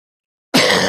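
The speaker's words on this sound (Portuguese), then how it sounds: "vou tossir de novo, desculpe" A single abrupt cough bursts out after half a second of silence, close and loud, from a man presenting a Brazilian news commentary show.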